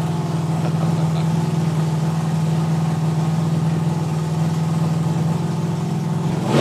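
Rod Harrison's dragster sits idling at a drag racing event, its engine a steady, droning rumble that holds at even loudness throughout, with no voices.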